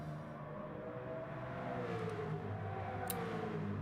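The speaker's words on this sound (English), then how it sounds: "The sound of that Mazda just makes me smile. That rotary engine just screams." Mazda rotary-engine LMP1 race car in a racing video game, a steady loud high engine whine held throughout with gliding pitch, no talk over it.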